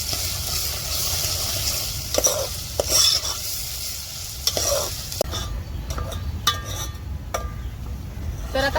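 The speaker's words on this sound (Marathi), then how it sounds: "कांदा ना आता लाल होत तर मी परतून घेणार आहे" Onions fry in a pan as they are stirred, a steady sizzle under repeated scraping and clinking strokes of the spoon, heard close and with no talk.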